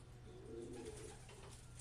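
A pigeon gives a soft, low coo, faint and somewhat distant, over a steady background hum.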